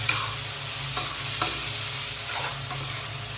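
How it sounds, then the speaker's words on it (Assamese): Fish pieces stirred in hot oil, giving a dense, continuous sizzle close by, with occasional scrapes and soft knocks of a spatula against the pan and no voices. "লৰাই দিছোঁ মাছখিনি যাতে ভালকৈ তেলটো পায়"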